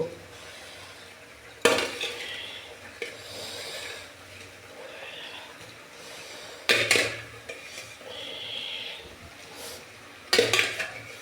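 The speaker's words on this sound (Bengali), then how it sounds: "এখন আমি বয়েল করে রাখা কচুর লতিগুলো দিয়ে দেব।" Boiled taro stolons go into a pan with fish head and are stirred. Three sharp clanks of utensil on pan stand out over a quiet, soft sizzle, with scattered scraping between them.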